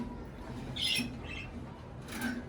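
Cockatiels at a breeding farm give two short shrill squawks, one around the middle and another near the end, over a quiet low background hum.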